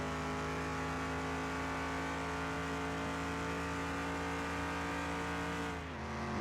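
A race car in Car Mechanic Simulator 2021 holds a steady, loud engine drone on a track, with a brief dip near the end as it struggles into fourth gear and drops down.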